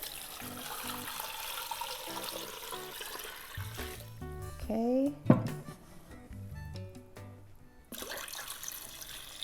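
About 14 cups of water are poured into a pot for Korean rice cake and dumpling soup, splashing and trickling in bursts, with a brief rising gurgle midway. A voice speaks briefly.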